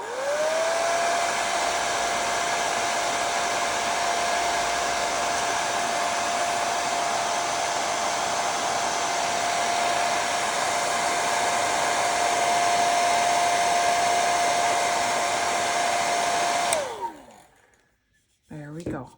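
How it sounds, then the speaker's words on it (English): A hair dryer blows on a watercolour painting of a snowman in a winter woods scene, a loud steady whine and airy rush held for about seventeen seconds, then switched off and winding down to near silence. "I'm going to need to blow dry"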